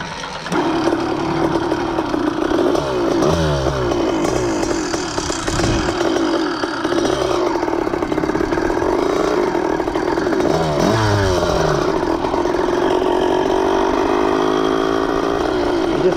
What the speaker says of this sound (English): I'm just warming it up right now.